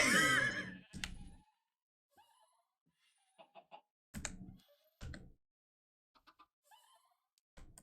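Chickens in a video game give short clucks and squawks, a loud burst at the start followed by scattered brief calls separated by silent gaps.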